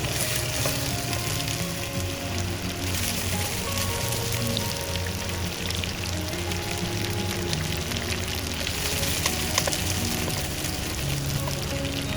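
Potato chunks for Bengali aloo torkari frying and searing in hot oil, a steady dense sizzle with crackling pops, close and continuous without pause.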